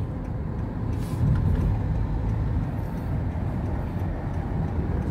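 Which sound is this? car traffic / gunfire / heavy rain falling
car traffic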